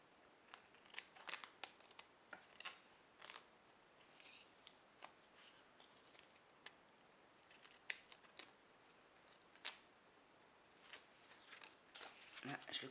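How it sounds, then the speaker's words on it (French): Scissors snip around a paper contour in quick, irregular cuts, close and crisp, with short pauses between bursts of snipping. "je finis de découper le contour"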